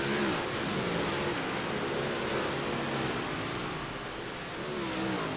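Dirt track race cars roar around the track in a dense, continuous engine drone with revving, loud and steady throughout, with no talk over it.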